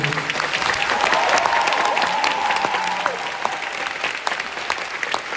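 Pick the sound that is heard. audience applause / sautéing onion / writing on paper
audience applause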